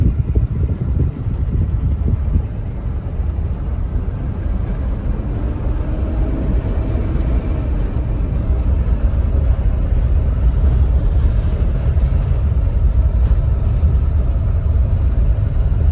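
Low, steady engine drone of a 2007 Ford E350 van on the move, loud and unbroken for the whole stretch, with a faint rumble of road noise.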